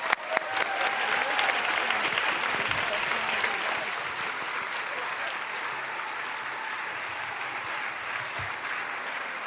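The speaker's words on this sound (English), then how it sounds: "Please join me in a final round of applause for Ophelia Dahl." An audience at the Radcliffe Day ceremony breaks into sustained applause, starting strong and easing slightly but continuing steadily as a broad wash of clapping with no speech over it.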